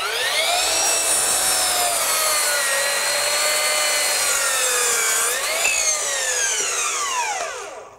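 A Bosch PROFACTOR 18V 12-inch dual-bevel glide miter saw cutting through wood, a loud steady high-pitched motor whine with blade rasp sustained for several seconds, pitch shifting slightly under load before winding down.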